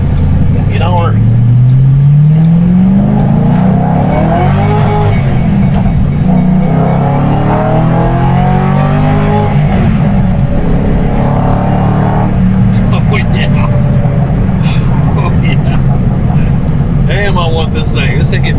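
A 2006 Ford Roush Mustang GT V8 revs and accelerates on a test drive, engine pitch climbing through several gear pulls from inside the car, with someone talking over it.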